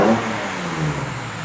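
Ford XR6 Falcon engine revving with sharper throttle response, a brief close mid-pitched rev that settles into a steady idle drone, with no talking over it.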